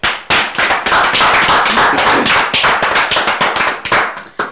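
An audience applauds, a dense, loud burst of many hands clapping that starts abruptly and carries on steadily for several seconds, with no talk.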